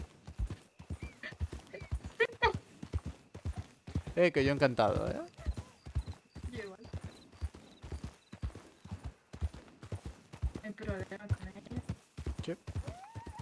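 Several horses trot together with brisk, continuous clip-clopping in a Western roleplay game near Blackwater, and a horse whinnies partway through. Players talk over the hoofbeats throughout.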